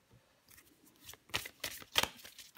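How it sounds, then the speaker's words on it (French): Tarot cards being shuffled and drawn by hand, a quiet start followed by several crisp riffling bursts that grow louder toward the end. "Je vais prendre encore une carte pour vous."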